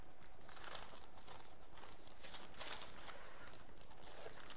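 Soft crinkling and crackling of baking paper being peeled off a galette des rois pastry, steady and close, with light rustling patter throughout and no talking.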